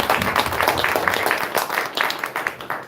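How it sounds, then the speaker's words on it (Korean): A church congregation at a revival gathering claps together, a moderately loud burst of many hands with uneven rhythm that gradually thins out toward the end. "박수 한번"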